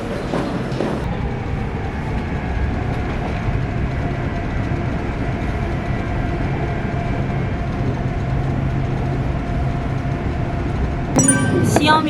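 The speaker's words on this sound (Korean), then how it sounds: "빨리 지하철을 타고 가보겠습니다." Steady, loud rumble of a subway train in motion, the cabin noise droning continuously, with a brief clattering burst near the end.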